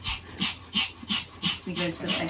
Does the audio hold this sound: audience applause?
no